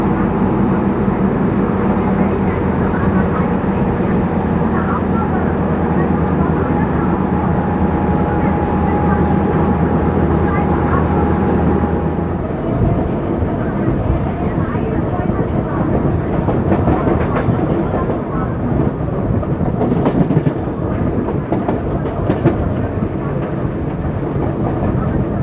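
A Pune-Phaltan DEMU train runs through Shindawane station without halting. A steady, loud rumble fills the clip, shifting partway through into busier, rattling track noise as it passes over the station lines.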